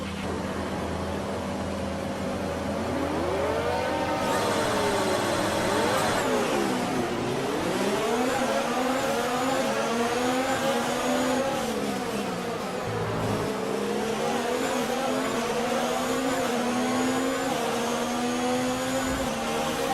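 Formula 1 race car engines on the Monaco starting grid in the F1 2019 video game, a loud, continuous high-pitched whine that rises and falls as the engines rev, close and with no talk.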